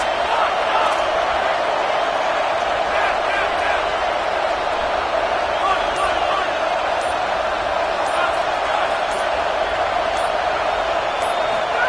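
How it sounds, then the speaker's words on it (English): A dense, steady roar from a packed stadium crowd at a college football game between Florida State and Indiana, loud and sustained without letup as fans try to rattle the offense, with faint voices mixed into the wall of noise. "Listen to this crowd just shaking the girders of this place, trying to help their defense."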